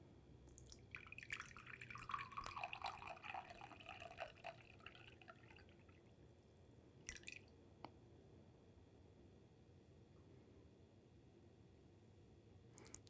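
Water trickles and drips faintly while being poured, with a brief burst of splashing early on, then a few isolated drips in otherwise near silence.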